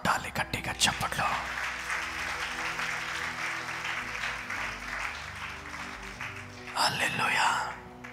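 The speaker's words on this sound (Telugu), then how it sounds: "కొట్టాలి గట్టిగా చప్పట్లు." A church congregation claps loudly and steadily at a sermon, dense applause filling the room, with a preacher's voice briefly heard at the start and a burst of louder clapping near the end.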